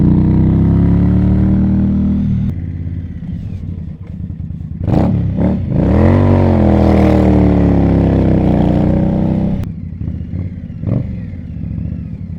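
A vintage motorcycle engine cold-starting at an outdoor vintage motorcycle show, loud and close, with a steady rough idle that surges into a brief revving swell before settling back to idle.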